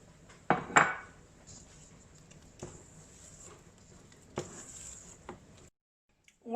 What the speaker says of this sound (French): on va ajouter la crème pâtissière à notre préparation de praliné et on va aller fouetter pour bien tout incorporer